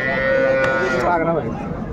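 A dairy cow at a rural cattle market in Ranigonj, Dinajpur moos loudly and close by in one long, drawn-out call with shifting pitch, with faint market noise behind.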